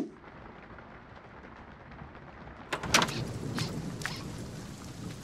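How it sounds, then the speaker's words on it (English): Rain falling steadily, a soft continuous hiss, with a few sharper splashes or crackles and a faint rumble joining in the second half. "Rain."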